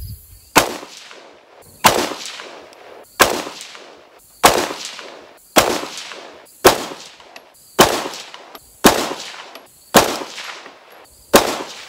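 Nine 6.5 Grendel rifle shots fired with Federal Match ammunition, each a sharp, loud, close crack followed by a short decaying echo, spaced evenly about 1.2 seconds apart with quiet between them.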